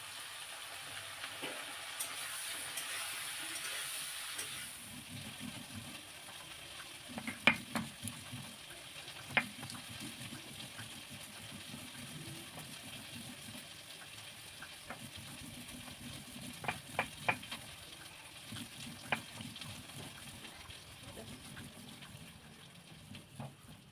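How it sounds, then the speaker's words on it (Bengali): Brinjal pieces fry in oil in a kitchen pan, a faint, steady sizzle running throughout with occasional sharp clinks and scrapes of a spatula against the pan; no voices are heard. "আমি প্রথমে বেগুনগুলো তেলে একটু ভেজে নেব"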